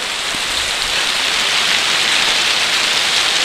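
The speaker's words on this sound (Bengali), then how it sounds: "আর কত বৃষ্টি হচ্ছে এবারে" Heavy rain falls steadily and evenly, a dense constant hiss of drops on surfaces all around, with no voices.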